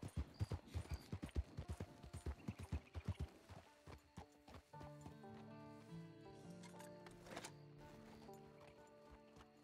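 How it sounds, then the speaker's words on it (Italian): Horse hooves clip-clop in a quick, steady rhythm in Red Dead Redemption 2, fairly faint, then fade into a soft background of game music and ambience. "C'è un cavallo con una sella."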